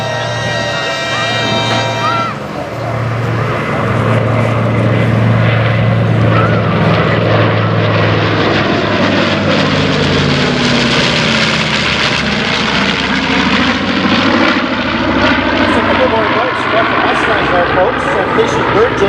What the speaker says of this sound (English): once again from the north, the B-25, the Mustang, and the Supermarine Spitfire.